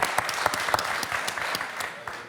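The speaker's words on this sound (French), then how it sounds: "Ah, ça s'applaudit, bravo" A studio audience on a French quiz game show claps in a brisk, even burst of applause, close and dense for a couple of seconds before thinning out at the end.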